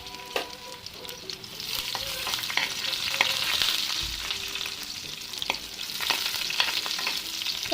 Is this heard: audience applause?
no